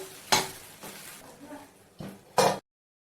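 A lid is set on a pot of stirred khichdi, giving a few close metallic clanks and clatters with quiet kitchen sounds in between, and the last knock is the loudest before sudden silence.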